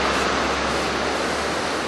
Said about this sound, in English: And here's some nice clean water coming down from the mountains.